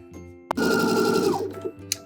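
A sewing machine stitches bias binding around a garment neckline in a short burst of rapid, even mechanical chatter lasting under a second, preceded and followed by quiet clicks.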